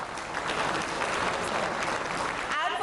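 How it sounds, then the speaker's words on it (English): Sustained audience applause fills an assembly hall at the 59th Asia Pacific Broadcasting Union General Assembly, a dense, steady wash of many hands clapping at close range without a break. "A huge round of applause, please,"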